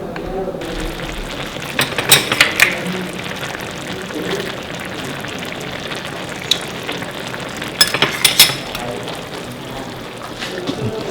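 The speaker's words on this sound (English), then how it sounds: "will just cover this and let steam from the dish poach the egg" Shakshuka simmers under a lid while steam poaches the egg, giving a steady soft sizzle and bubbling with a few louder crackling spurts, and a voice speaks over it.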